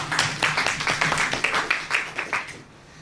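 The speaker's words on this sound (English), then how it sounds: "Give a round of applause." An audience applauds a volunteer coming up at a talk: a short burst of rhythmic clapping from a small group, fairly close, that fades out after about two and a half seconds.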